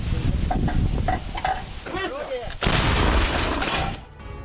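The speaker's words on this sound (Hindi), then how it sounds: "एंटी टैंक गन से यूक्रेनी ठिकानों पर हमला किया गया है।" Anti-tank gun fire on Ukrainian positions during the Russia-Ukraine war, loud, harsh blasts with a heavy burst partway through, and a voice speaking briefly between them.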